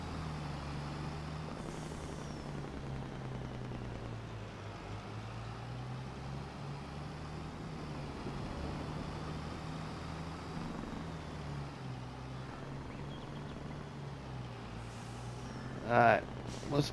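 A truck in Farming Simulator 22 drives along with a steady low engine drone and rumble that holds throughout, ending in a couple of brief hissing bursts like air brakes.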